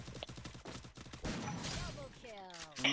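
Rapid bursts of video game gunfire crackle in a dense, repeated volley, then give way to a noisier rush and a tonal sweep near the end.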